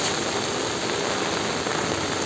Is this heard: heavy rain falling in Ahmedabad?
yes